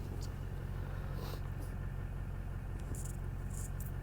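An LB7 Duramax diesel truck engine idles with a continuous low rumble and drone that holds unchanged throughout, with faint higher hiss over the top.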